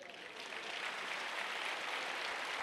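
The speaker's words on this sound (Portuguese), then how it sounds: "Vamos dar uma salva de palmas a Jesus." A congregation in a Portuguese-speaking church breaks into steady, sustained applause, a dense wash of many hands clapping together, fairly distant and even in level throughout.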